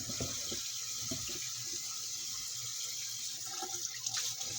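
Running tap water in a dinner-themed party video game, a continuous steady stream of water with faint clinks of dishes being washed, heard alone without talk.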